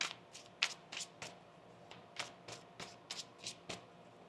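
Tarot cards shuffled in steady repeated flicks, a dozen or so crisp riffles at an even rhythm, close up and quiet.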